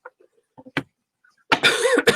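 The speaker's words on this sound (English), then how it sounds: "I don't know why I'm coughing today" Several short, dry coughs in quick succession from a woman, close and quiet in an otherwise silent room, followed by a burst of speech.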